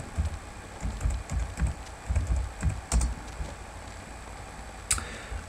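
Someone types on a computer keyboard in close, quiet clusters of key clicks with short pauses, a couple of sharper taps standing out, no talking.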